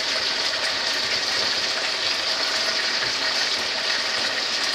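Onions dropped into a hot pan while stewing Spanish-style pork chops give off a steady, broad sizzle and hiss that holds constant and fairly loud throughout, with no talking.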